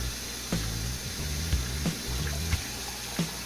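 Tap water running into a container holding frozen mice as it is dumped and warmed, a continuous splashing flow broken by several sharp knocks and clunks.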